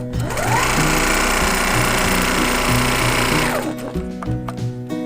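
A sewing machine stitches petal and filler designs on a bunny quilt, running at a steady, fast whirring hum for a few seconds before stopping, with quieter mechanical ticks after.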